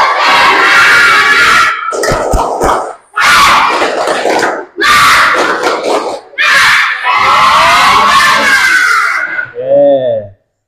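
A group of schoolchildren loudly chanting and clapping a spirit clap in rhythmic bursts, several energetic rounds separated by brief pauses, ending with a short shout.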